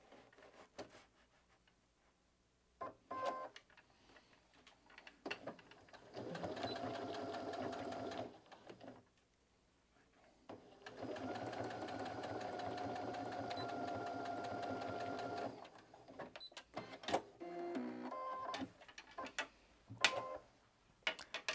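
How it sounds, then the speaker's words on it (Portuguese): A sewing machine stitches a small fabric piece in two sustained whirring runs separated by pauses, with handling clicks and rustles between them and no speech. "E a gente vai costurar esse pedacinho, lembrando de deixar uma folguinha de um pé de máquina no começo e uma no final."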